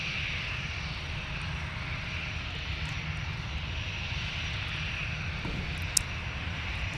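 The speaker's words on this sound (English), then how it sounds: "So that was one long takeoff roll for the 757" A Boeing 757 jet roars through a long takeoff roll at Minneapolis–Saint Paul airport, a steady, broad engine rumble heard from a distance with no break for the whole stretch.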